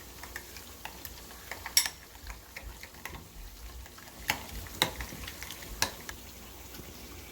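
A Cajun potato mixture is stirred in a pan over a soft frying sizzle, with scattered close ticks and scrapes of the utensil against the pan.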